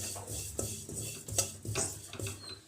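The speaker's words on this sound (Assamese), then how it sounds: "কেৰাহী গৰম হৈ গৈছে আৰু ইয়াত মই দিম এতিয়া তিল আৰু এই তিলখিনি মই অকমান ৰঙচুৱাকৈ ভাজি লম।" Sesame seeds roasting in a hot wok in a home kitchen, heard as soft, quiet scraping and stirring with light metallic clinks of the spatula against the pan, repeating at an uneven pace.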